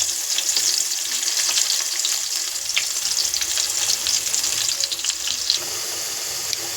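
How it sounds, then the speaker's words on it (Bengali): Large-cut potato pieces deep frying in oil give a dense, continuous close-up sizzle and crackle that holds level throughout, with no voices. "লাল লাল করে ভেজে নেবো আলুগুলো।"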